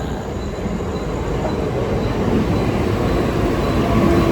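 Steady loud rumble and rattle of a moving Mumbai local train bound for Jogeshwari, heard from on board, growing slightly louder toward the end.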